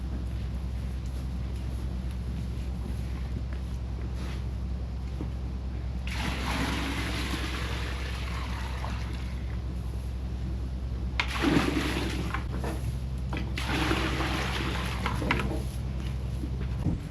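Water pours and splashes into a container for chickens on a farm during fall harvest, coming in a few separate bursts of splattering flow with quieter gaps between them under a low background hum.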